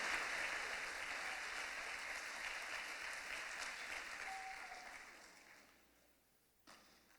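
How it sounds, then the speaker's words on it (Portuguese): A church congregation claps in sustained, even applause that holds steady for several seconds, then tapers off and fades to near silence, with one brief sharp sound at the close. "Se é para aplaudir, aplauda mais forte."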